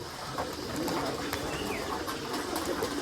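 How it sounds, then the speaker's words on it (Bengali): High flyer pigeons coo softly inside their coop, low repeated calls over a constant rustling background, with faint voices nearby. "এই দেখেন হাই ফ্লার কবুতরের কোপ"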